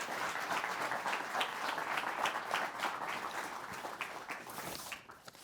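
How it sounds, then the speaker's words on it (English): Audience applause after a film screening, a sustained wash of many hands clapping at a steady level that thins and fades toward the end. "You can applaud."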